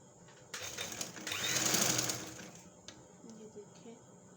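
Sewing machine stitching through slime fabric, a short burst of rapid mechanical whirring that swells and fades within a few seconds, close and clear over quiet room noise.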